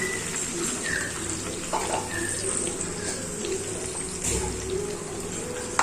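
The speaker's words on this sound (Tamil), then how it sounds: "மீதி அரைச்சல தண்ணி சேர்த்துக்கிறேன்." Water is poured into a pan of ground curry paste for a mushroom malai curry, giving a steady, close rushing stream over a soft sizzle.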